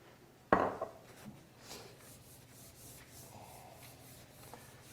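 A metal cookie sheet clanks down sharply once, followed by faint scraping and rubbing as oil is spread over it in a kitchen.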